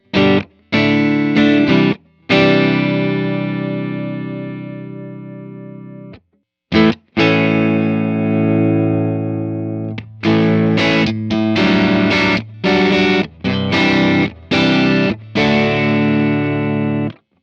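Electric guitar through a Vox AC30 amp emulation with a warm, slightly driven tone plays ringing chords, pausing briefly between strums, then shorter chopped strums near the end.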